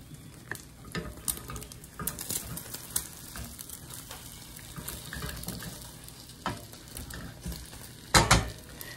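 Eggs for an omelet-like layer cook in a pan with a soft, steady sizzle, broken by occasional clinks and scrapes of utensils and a louder clatter near the end.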